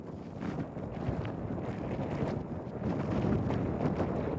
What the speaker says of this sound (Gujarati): એટલો પવન છે યાર